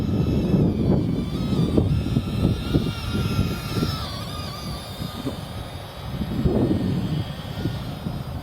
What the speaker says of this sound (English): there's that wind picking up